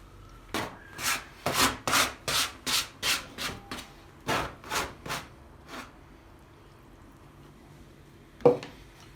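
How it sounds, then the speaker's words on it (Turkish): Poğaça dough worked by hand, with a steady run of about a dozen rhythmic rubbing, pressing strokes close by, then a pause and one sharp knock near the end; no talking. "Hamuru toparlayacağız."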